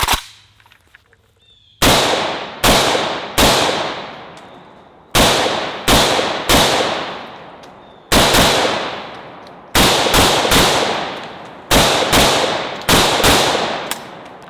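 An AK-47 rifle fires roughly a dozen loud single shots with irregular spacing, some in quick pairs and triples. Each crack is sharp and sits close to the listener, followed by a short decaying tail, with no talking.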